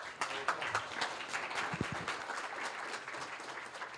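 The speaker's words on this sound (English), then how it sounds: "let's give a round of applause" An audience at a regional idea pitch event claps for presenters, a moderately loud, even wash of applause with a few faint voices underneath.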